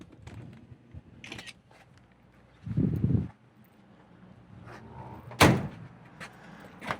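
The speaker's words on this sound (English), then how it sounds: "Door shut, awesome." Door of a 1957 Pontiac Chieftain swinging and shutting with a solid thunk, followed by a sharper latch click, amid small handling noises nearby.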